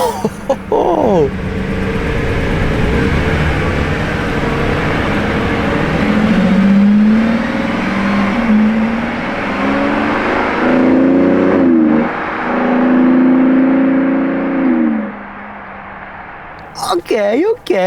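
A Verde Viper Lamborghini Urus Performante passes on the road, its engine swelling and revving through several gear changes to a loud peak before fading away, with a voice briefly speaking at the start and the end.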